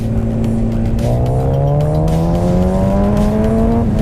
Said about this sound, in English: I'm gonna go ahead and give it a little bit of throttle and see what's going on with it